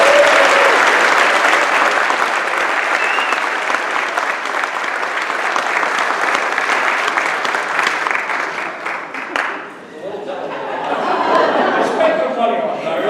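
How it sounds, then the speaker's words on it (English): Applause from an audience at an in-home graduation ceremony, a loud, sustained round of clapping that dips briefly and then picks up again more lightly, with faint voices mixed in. "Big round of applause."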